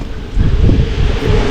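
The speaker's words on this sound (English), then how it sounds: "So that's how windy it is." Strong gusting wind during a hail storm buffeting the microphone outdoors by a trailer, loud rumbling blasts that swell and ease in quick surges.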